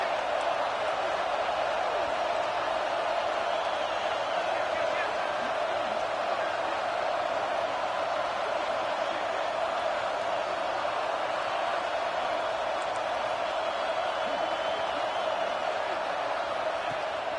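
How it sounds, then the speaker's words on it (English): A stadium crowd roars steadily on third down at an Ohio State Buckeyes football game in a video game, a dense unbroken wash of cheering that holds at an even loudness throughout. "The Buckeye crowd alive on 3rd down."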